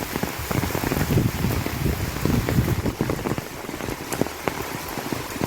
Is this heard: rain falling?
yes